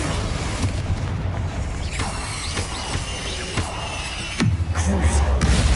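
Confringo fire spell explosions in the Hogwarts Legacy video game on PS5, heard as a dense roar of game combat with booming bursts, sharp impacts near two and four and a half seconds, and a heavier blast rising at the end.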